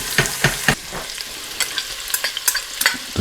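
Onions hit hot fat in a pot for clam chowder, sizzling close up while a spoon stirs them in quick scraping strokes.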